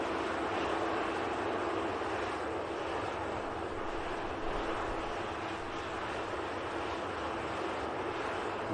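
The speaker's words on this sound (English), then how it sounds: "We'll just capture this Ryanair on departure for Brussels." A Ryanair airliner departing for Brussels, a steady, fairly loud jet engine roar that holds an even level throughout with no talk over it.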